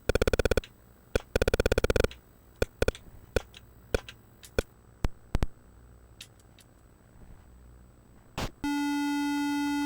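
Galaxian played on an Atari 800XL: sharp electronic laser zaps, rapid repeated blips and short buzzing bursts in irregular bursts, ending in a sustained steady tone.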